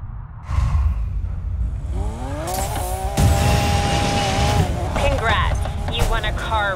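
In Need for Speed Payback, race cars cross the finish line with roaring engines and a whoosh, layered under game music and a voice speaking.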